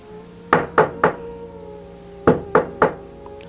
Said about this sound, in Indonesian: tiba-tiba ia mendengar suara ketukan dari pintu rumah